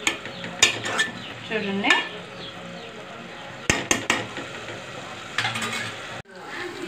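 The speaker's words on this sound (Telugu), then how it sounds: "ముద్దగా అయ్యేదాకా బాగా ఫ్రై చేసుకోవాలి" Egg curry masala with ketchup being stirred and fried in a pan, with repeated scraping and clinking of a spoon over a soft sizzle and a brief spoken word.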